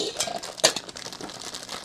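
Funko Pop figure packaging crinkles and rustles briefly up close, with one sharper crackle partway through and faint voices around it.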